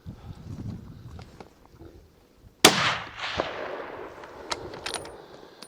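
A single sharp rifle shot rings out close by during a Colorado rifle-season bull elk hunt, its report decaying with echo, after quiet rustling and before faint clicks and scattered small sounds.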